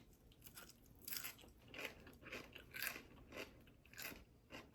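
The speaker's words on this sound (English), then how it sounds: "I could eat salted raw cabbage all day" Someone bites into and chews salted raw cabbage, producing a series of sharp, wet crunches in an irregular rhythm, close and quiet, with no talking.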